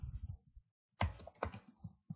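Typing on a computer keyboard during a spreadsheet tutorial, with quick close key clicks in short bursts, a brief pause, then a louder run of taps.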